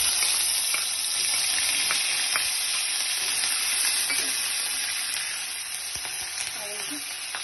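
Ground spices fry and sizzle in oil with whole garam masala and bay leaves for a chicken dish, a steady close crackle with occasional scrapes of stirring that softens slightly toward the end.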